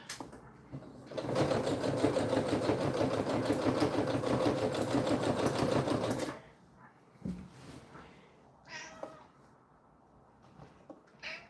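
A sewing machine stitches a hem on a festive party poncho, running steadily for about five seconds with a close, buzzing mechanical whir, then stopping and leaving a few light clicks and handling noises.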